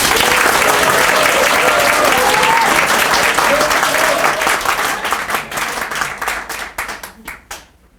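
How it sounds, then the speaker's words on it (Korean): A crowd at a political party members' gathering in Pohang welcomes a speaker with dense, loud applause that holds steady and then thins into scattered claps before fading out. "박수로 맞아주시고"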